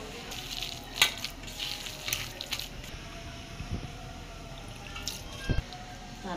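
Small shrimp fritters made with rice flour, chili powder, turmeric, chopped onion and green chili, frying in a pan: a steady soft sizzle punctuated by scattered pops and spits, with no voices.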